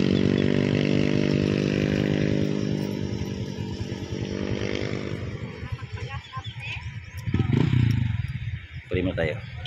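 Several motorcycles ride in a group along Rock Drive on Siargao, engines droning steadily and close at first, then thinning out with clatter and wind as the bikes move on.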